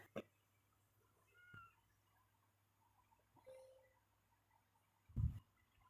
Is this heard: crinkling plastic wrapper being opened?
no